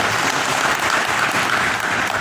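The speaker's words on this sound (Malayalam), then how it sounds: "അവർക്കൊരു കൈയടി കൊടുക്കും." A crowd at a church gathering claps for the workers, a dense, loud burst of continuous applause filling the whole moment with no talk over it.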